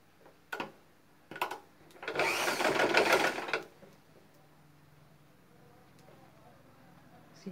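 A sewing machine stitches buckram into a fabric tear-drop piece: two short clicks, then a single burst of rapid stitching lasting about a second and a half before it stops, leaving a quiet room.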